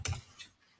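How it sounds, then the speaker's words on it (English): Typing on a computer keyboard: two or three quick, soft key clicks close to the microphone, followed by near silence. "So you can simply type these in here."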